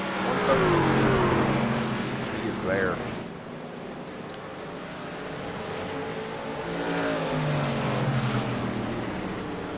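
Racing truck engines in an NSRLA truck series race at the Glen, a droning, revving roar that swells and fades as trucks pass, under a commentator's voice.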